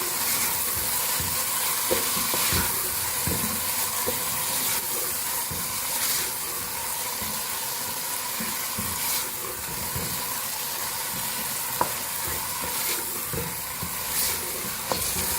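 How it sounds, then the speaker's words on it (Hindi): Soaked moong and masoor dal fry with spices in a pan over high heat, making a dense, continuous sizzle and hiss with occasional stirring scrapes, close and fairly loud. "अब इसको भूनेंगे मसाले के साथ अच्छी तरह से तेज आंच पे।"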